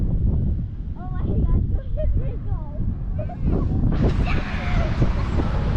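Strong wind at the beach buffets the microphone in loud rumbling gusts that nearly cover the voices of people talking.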